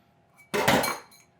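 A utensil scrapes and clinks against a bowl while stirring a crème brûlée cream mixture, one short, bright burst of contact noise in an otherwise quiet kitchen.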